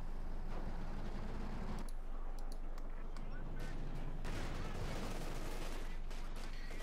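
Bazooka and rapid gunfire from a Company of Heroes 2 battle with Panzer IV and Sherman tanks, a dense, continuous barrage of shots and blasts rumbling throughout, with a heavier burst toward the end.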